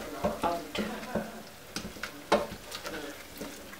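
A spoon stirring pepper and salt through a pan of spiced aloo gobi masala, giving a series of light scraping taps against the pot over a soft sizzle, close and fairly quiet.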